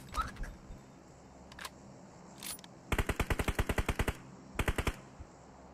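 Automatic gunfire from the mobile game BGMI crackles in quick, evenly spaced bursts, a long rapid volley followed by a shorter one, with a few scattered shots and faint game ambience between.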